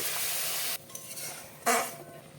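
Ginger-garlic paste frying with spices in a pan gives a broad hiss that cuts off, then a short splash and a fresh burst of sizzling as a little water goes in, with faint clinks from utensils.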